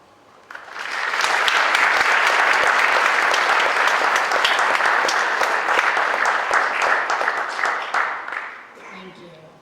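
An audience applauds seniors at a National Honor Society induction, a sustained, even wash of many hands clapping that starts abruptly, holds steady for several seconds and then tapers off.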